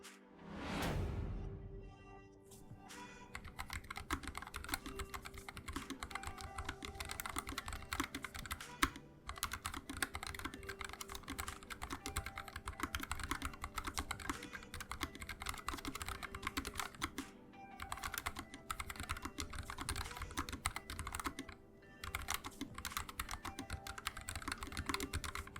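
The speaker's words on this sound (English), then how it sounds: "let's have a listen to what the Gateron Red sound like stock" Typing on a NuPhy Air75 keyboard fitted with stock Gateron Red linear switches: a long, close run of rapid, steady keystrokes with soft clacks and a few brief pauses.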